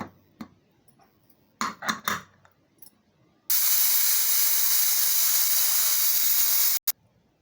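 A pressure cooker whistle releases a loud, steady hiss of steam for about three seconds while cooking sambar rice, then cuts off abruptly, preceded by a few soft kitchen clanks.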